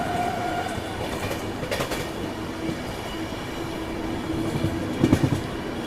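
Rajdhani Express train rolling between Gangapur City and its next stop, a steady close interior rumble with rhythmic wheel clatter and a few sharp clacks, faint wheel squeal creeping in as it slows.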